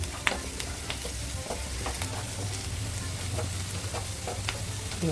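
Onions and masala for a prawn roast sauté in a pan, a soft steady sizzle broken by scattered scraping and stirring clicks of a spoon, close and alone with no voices.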